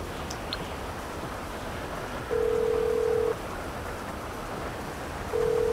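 Phone dial tone while calling the yacht captain in GTA 5 Online, a steady ringing tone sounding twice in about one-second bursts over a noisy background, with no talking.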